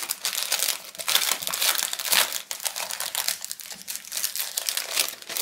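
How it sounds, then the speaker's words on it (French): Light wooden pieces of a crafting shaker box being cut and pressed out by hand, giving steady close crinkling and crunching with no voices. "je vais commencer par découper ce shaker box"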